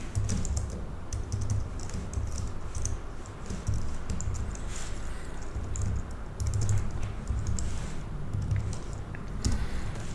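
Someone typing code on a computer keyboard, a steady close patter of key clicks with a few brief louder bursts, no talking.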